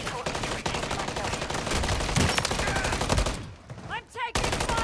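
Rapid, sustained automatic gunfire in Modern Warfare Zombies, dense rattling bursts that fill most of the clip, break briefly for a short gap with a few sharp sounds, then resume at full intensity.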